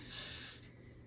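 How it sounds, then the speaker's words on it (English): Hairspray or similar product misted around the hairline perimeter during an HD lace frontal wig re-install, a loud continuous hiss for about half a second that then drops away, close and alone. "first thing we got to be spray the perimeter of your hairline"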